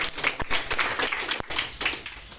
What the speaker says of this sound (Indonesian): Tepuk tangan dong buat